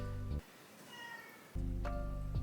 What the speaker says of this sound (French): une vidéo de chat qui pense encore une fois avoir des meilleurs chats que les miens